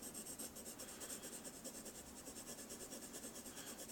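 A Crayola blue colored pencil shades across paper in a steady, soft scratchy rub with quick back-and-forth strokes, faint and close, while shading an eye drawing.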